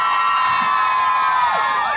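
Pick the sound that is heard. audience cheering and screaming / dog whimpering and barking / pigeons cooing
audience cheering and screaming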